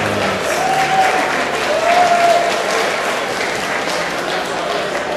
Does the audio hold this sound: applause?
yes